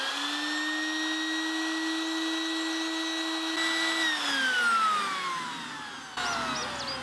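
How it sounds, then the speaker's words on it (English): A wet-dry vacuum motor, its tank full, whines steadily at a high pitch, then its tone sweeps downward and strains as the load changes, close and continuous. "So it sounds like the vacuum's actually full right now."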